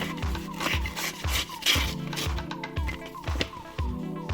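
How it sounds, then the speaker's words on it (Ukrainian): A Cold Steel Ti-Lite IV knife slices through 80 gsm paper in a quick run of about eight to ten rhythmic rasping strokes, close and fairly quiet. "поріжемо папір"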